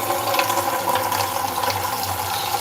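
Water pouring from a pot into a dog bowl on a farm, a short continuous splashing fill with a faint low hum beneath.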